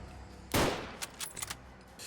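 Gunfire in the video game Fallout: London, a loud sharp shot followed by several quicker, fainter bursts of firing over a quiet background.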